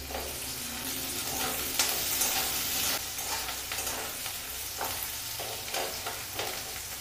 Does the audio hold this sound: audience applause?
no